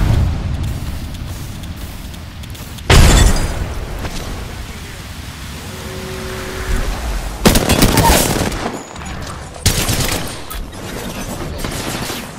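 A grenade explodes and gunfire erupts in the Apex Legends battle royale shooter, with several loud bursts of automatic fire and blasts broken up by quieter gaps.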